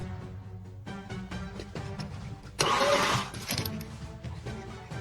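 A flood-damaged BMW engine, restored with oil added to its cylinders, cranks over with a steady rhythmic churning from the starter and a louder rushing burst partway through before the cranking continues.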